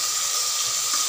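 Tomato and green chilli dropping into hot oil with curry leaves and fried onion, a steady close hiss of sizzling that holds evenly throughout, with no voices.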